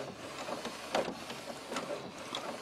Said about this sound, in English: Now I'm printing something out now.